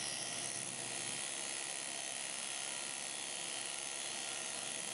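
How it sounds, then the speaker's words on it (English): An electric motor spins steadily at about 4200 RPM to drive a roto-flapper peening flap, giving a constant, loud whirring buzz with a high whine that holds unchanged throughout. "After turning the motor back on, I'll check to make sure my RPM is still at 4200."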